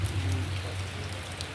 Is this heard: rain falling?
yes